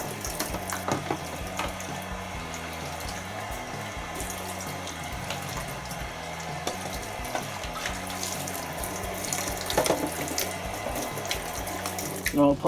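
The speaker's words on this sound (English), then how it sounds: "Bit of cold water, rinse everything through." Cold tap water runs steadily to rinse a removed detergent drawer from an old Bosch washing machine, with splashing and a few plastic clicks and rattles near the end.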